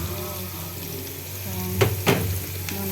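Onion and mushroom fry in a pan with a steady low sizzle and hum, while a utensil stirs with two or three brief scraping clatters near the end, all fairly quiet.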